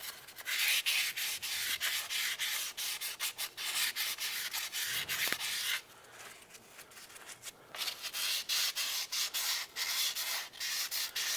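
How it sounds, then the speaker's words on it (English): Sandpaper is rubbed by hand around the rear wheel hub flange of a 2006–2011 Cadillac DTS, making close, continuous rasping strokes in quick rhythmic bursts with a brief pause midway. No one speaks. "Just using a little bit of sandpaper to go around and clean off any high spots"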